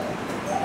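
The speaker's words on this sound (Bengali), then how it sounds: "জানালায় ঘুঘু ডাকতেছে" Two large doves coo faintly at a window on a morning, a brief soft call over a low room hum.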